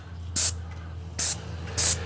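Paint sprayer shooting paint onto exterior stucco accents at a downward angle: three short, loud hissing bursts at uneven intervals over a low steady hum, close and without talk.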